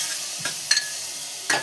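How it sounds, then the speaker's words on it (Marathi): Dry spices and tomato are sautéed in a pan, giving a soft sizzle with a few scraping stirs of a spoon against the metal, close and fairly quiet. "हे सुके मसाले टाकून घेऊया यात सगळे। त्याला थोडंसं असं परतून घेऊया।"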